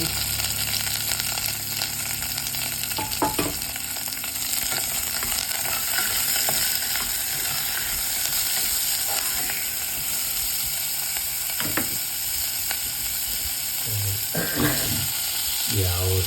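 Onion and chili fry in hot oil for a vegetable sambar tempering, giving a steady close sizzle with scraping stirs and a few clinks of a utensil against the pan.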